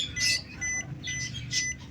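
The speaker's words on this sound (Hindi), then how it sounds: "ये देखें लो बैटरी का अलार्म और आवाज़ भी आ रही होगी।" Low-battery alarm from a lithium battery backup meter: short, high-pitched electronic beep bursts repeat at roughly regular intervals over a steady low hum.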